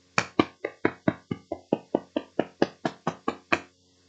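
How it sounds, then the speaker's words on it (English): Steady series of about fifteen firm knocks pounding on a wooden door, evenly spaced and loud, close by, with no voices. "Hermione was pounding on the door again."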